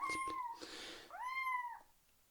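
A cat meows twice up close, a short mew and then a longer drawn-out cry with a breathy hiss between them, in a quiet indoor veterinary role-play setting, without talking.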